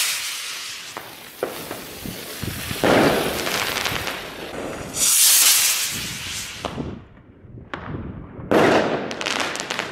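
New Year's Eve fireworks and firecrackers go off in Delft streets: sharp repeated bangs, crackling bursts and sizzling fizzes come at irregular intervals, some near and loud, with hissing rockets between blasts.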